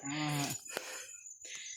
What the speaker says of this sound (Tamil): இந்த கன்று நம்ம வந்து ஆசையாக வாங்கின ஒரு காங்கேயம் இன கன்று